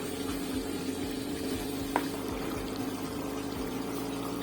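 Water pours steadily into a pan of masala for bhindi chicken, making a continuous close hiss and gurgle with one brief clink partway through.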